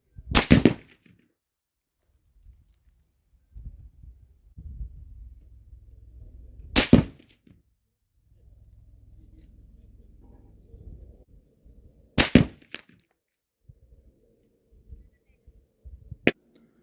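Four sharp, loud rifle shots from a 300 Winchester Short Magnum firing 130 grain TTSX bullets loaded with Varget powder at a range, spaced several seconds apart, with faint wind and low rumble between them.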